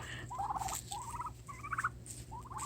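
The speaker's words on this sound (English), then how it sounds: "there's all the baby turkeys" Young turkey poults on a farm give repeated short gobbling trills in several bursts, fairly close and clear over a steady low background hum.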